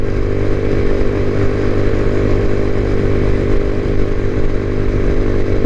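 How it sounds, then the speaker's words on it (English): A motorcycle engine revs and pulls hard as the rider accelerates on a road ride. The drone is loud, close and continuous, with wind noise and no talking. "You hear the motor kick."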